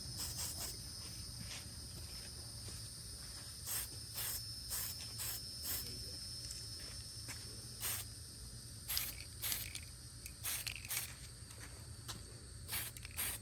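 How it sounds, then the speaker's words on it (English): Short bursts of spray paint hiss out in irregular pulses onto an airsoft helmet in a snakeskin pattern, a soft background hiss continuing between them. "I like to spray the snakeskin"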